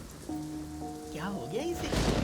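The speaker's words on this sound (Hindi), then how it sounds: "इतनी बारिश हो रही है, तुम यहाँ बैठे हो।" Heavy rain falling as a steady hiss, growing louder toward the end, with tonal sounds and music-like tones layered over it.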